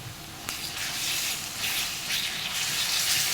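Ginger garlic paste fries with browned onions in a chicken curry pan, giving a close, hissing sizzle that flares sharply at the start and keeps crackling steadily, with no speech.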